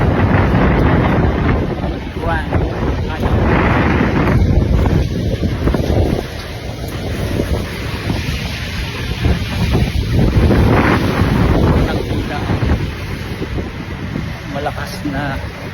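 Strong wind buffets the microphone in loud, continuous roaring gusts throughout, with faint voices partly buried beneath the rumble, outdoors in BGC (Bonifacio Global City), Philippines.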